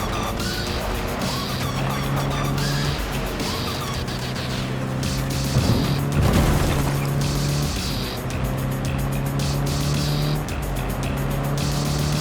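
A car driven in Cyberpunk 2077 at max settings, with a steady engine drone throughout and a few loud impacts and bumps midway, up close with no talk.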